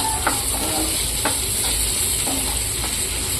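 Two ingredients fry together in a pan with a steady, close sizzle, broken by a few soft taps and scrapes of stirring, and no one speaks.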